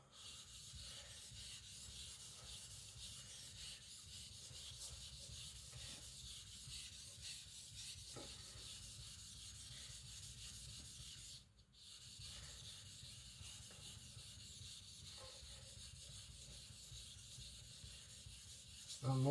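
A blade's bevel is rubbed flat on a sharpening stone in a steady, soft, continuous rasping scrape, close and quiet, with a brief pause partway through.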